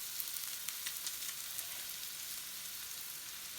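Chopped onion and garlic fry in oil in a pan for a shrimp taco filling, giving a steady close sizzle with faint crackles throughout, no talking.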